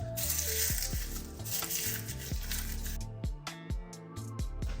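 Crushed dried curry leaves hit hot oil for a tempering, giving a brief sizzle that sits under loud tonal background sound and fades into scattered crackles.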